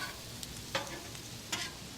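Peppers and onions sauté in a pan, giving a soft, steady sizzle broken by two short scraping stirs, quiet and close.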